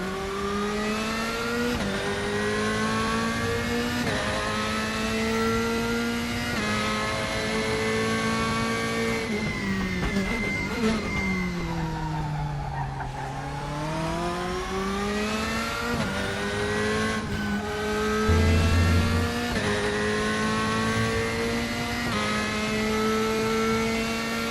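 A race car engine in the video game RaceRoom howls through laps, climbing steadily through gears with sharp shift breaks, dipping through a slow corner and rising again, loud and close throughout.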